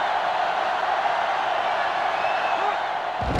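Stadium crowd noise from the NCAA Football 2005 video game during a Florida vs. Florida State matchup, a steady, dense roar with faint whoops, sustained throughout and ending in a brief low thump.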